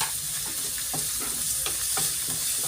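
Onion sautéing in a pan as the first step of cooking sardines. A dense, close sizzle carries on throughout, with soft repeated stirring scrapes.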